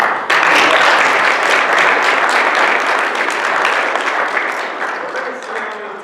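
An audience at a February 2019 ASHRAE chapter meeting applauds loudly and steadily as a speaker is welcomed, and the clapping fades gradually toward the end.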